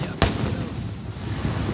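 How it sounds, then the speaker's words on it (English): Fireworks exploding on July 4th, 2015: one sharp, loud burst near the start, followed by a steady wash of distant crackling and rumbling. "They don't like fireworks."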